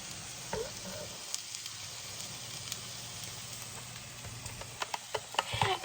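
Steak frying in a hot pan gives off a steady, close sizzle and hiss with scattered crackles and pops that grow busier toward the end, with no talking.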